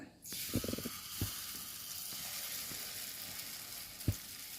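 Banana unniyappam batter, made with nendran plantain, frying in hot oil, a soft steady sizzle with a few sharp clinks of a utensil against the pan.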